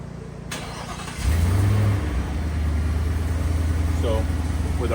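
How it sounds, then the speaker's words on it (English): A 2021-or-newer Ford F-150 twin-turbo pickup with an upgraded wastegate and exhaust cutouts does a cold start with the exhaust valves closed: a brief crank, then the engine catches and settles into a steady, fairly muted idle, with a voice over it. "we're gonna do a quick cold start with the valves closed"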